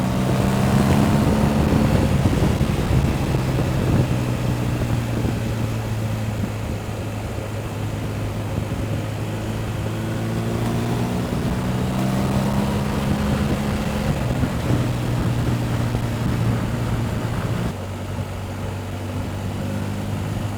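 A 2023 BMW R1250 GSA motorcycle engine drones steadily while riding, loud and close, shifting pitch as it climbs and drops through the gears under heavy wind rush.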